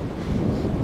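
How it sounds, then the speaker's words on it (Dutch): Strong wind buffeting the microphone high on K2 above 6,000 metres in bad weather, a loud continuous low rumbling roar that fills the whole short moment. "boven de 6 kilometer waait het enorm hard."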